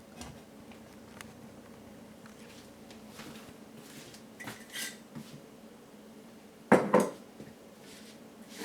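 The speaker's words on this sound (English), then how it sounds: "So let's now wash the lid and just put it back where we took it from." A jar lid being washed at a kitchen sink during sourdough starter preparation, with faint running water and soft rubbing, then a brief pair of louder metallic clinks near the end.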